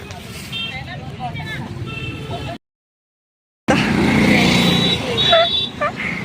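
A car drives along with a steady low road and engine rumble under women chatting nearby, broken by a short silent gap before the rumble returns louder.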